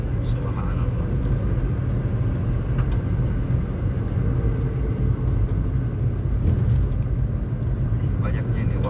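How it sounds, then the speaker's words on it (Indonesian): Road traffic with sand- and gravel-hauling trucks passing in Patallassang, Indonesia: a continuous low rumble of heavy engines and tyres, fairly close, with occasional brief knocks and rattles over the steady drone. "macet ya karena mobil pengangkut pasir, pengangkut sertu, pasir batu, pengangkut ciping, semuanya lewat sini"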